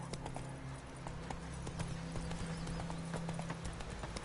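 Steady clip-clop of horse hooves at a walking rhythm in The Witcher 3 video game, moderately faint, over a low background hum.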